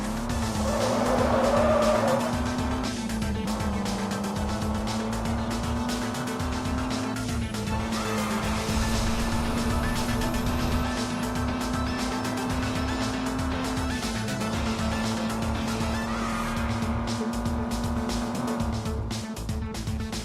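A race car in a video game drives under nitrous boost, a sustained engine drone rising and shifting pitch with tire squeal and skidding over twenty seconds, loud and continuous.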